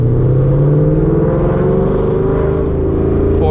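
A 2019 Ford Mustang GT rolling up to 40 mph, giving a steady, loud, close engine and road drone with a low hum that rises slightly in pitch as speed builds.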